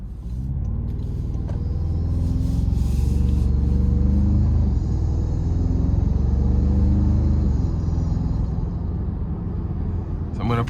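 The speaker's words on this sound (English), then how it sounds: "in that sport mode, it revs hot, it wants to get going" A 2026 Toyota Tacoma TrailHunter with the i-Force MAX hybrid engine, in sport mode, rumbles loud and close inside the cab, its engine pitch climbing and falling as it revs, with a voice talking over it.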